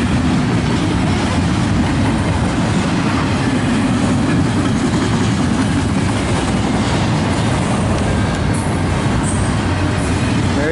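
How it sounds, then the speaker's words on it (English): An eastbound freight train climbs a grade on the Nipigon subdivision, giving a loud, continuous rumble of rolling wheels and cars with faint clicking and a brief squeal near the end. "As this train goes eastbound up the grade on the Nipigon subdivision."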